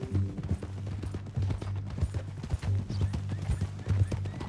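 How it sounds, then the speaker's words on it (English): Horse hooves clip-clopping in Red Dead Redemption 2, a steady rhythmic walking gait close by with light game ambience underneath. "That a new horse?"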